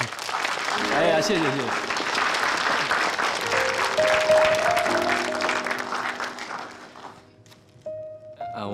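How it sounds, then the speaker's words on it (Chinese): Studio audience at a televised Chinese drama scene clapping in a steady wash of applause for a man apologizing to his girlfriend, with a voice thanking them over it before the clapping fades near the end. "待会儿给我一点掌声好吗？"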